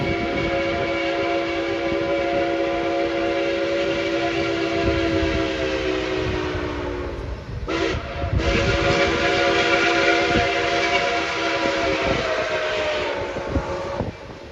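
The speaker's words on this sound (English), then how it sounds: "And there's the whistle." A long, loud whistle from steam locomotive 765 blows steadily for over ten seconds, with a brief break midway, over the rumble of the moving train.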